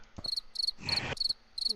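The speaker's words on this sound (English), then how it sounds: "Just get the crickets." Cricket chirping sound effect: short, bright bursts of chirps repeated at a steady pulse, fairly close and alone, with a brief rougher noise burst partway through.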